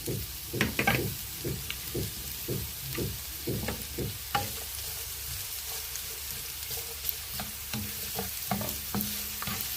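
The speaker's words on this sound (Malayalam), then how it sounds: "അതിലേക്ക് നമ്മൾ അരിഞ്ഞു വെച്ച ഉള്ളി ഇട്ട് കൊടുക്കാം." Chopped onion tipped into hot coconut oil for a sardine curry, sizzling steadily with repeated scraping and stirring strokes from a spoon in the pan, close and moderately loud, no voices.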